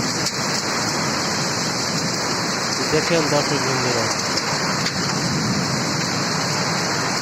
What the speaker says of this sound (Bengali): শুধু বাতাস আর বৃষ্টি আর ঘূর্ণিঝড়